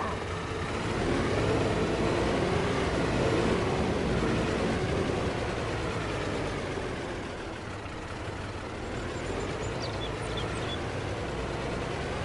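Steady engine drone from a tractor in a farming video game on PS4, holding a continuous low rumble at even loudness for the whole stretch with no speech over it.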